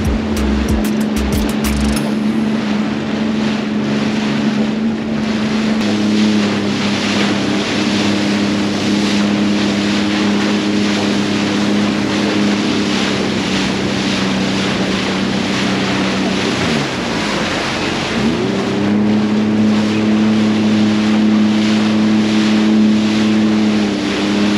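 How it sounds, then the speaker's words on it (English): The Empire Sandy ship heads out onto choppy Lake Erie, its engine droning low and steady under constant wind buffeting and wave wash, with the engine note dipping briefly before resuming. "Empire Sandy is just leaving here to get onto the water. She's pretty choppy out there."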